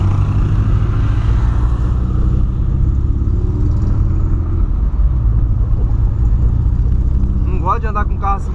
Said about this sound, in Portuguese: Pode andar com o carro assim falhando, que você pisa até o fundo.